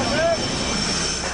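A jet aircraft comes aboard an aircraft carrier, its engine giving a loud, steady roar across the whole stretch with a high whine on top.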